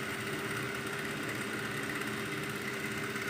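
A sewing machine stitches a shirt or kurta in one continuous close whirring run, steady and fairly loud with a fast, even mechanical buzz.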